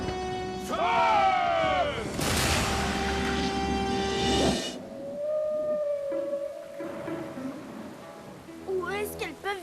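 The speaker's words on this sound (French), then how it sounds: "ce sont les baleines!" Whales call at sea in a cartoon far-north setting, long rising and falling moans over a rushing wash of water, followed by a quieter sustained tone and another cry near the end.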